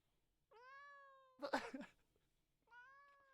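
A female cat lets out two long, loud, drawn-out meows with a harsh, noisy yowl between them, close and clear in a quiet room.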